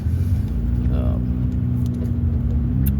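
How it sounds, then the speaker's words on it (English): A car engine idles with a steady low rumble and a faint rattling quality, heard from close by, with brief talk near the start. "there's something else in the engine that sounds like it's rattling or making noise"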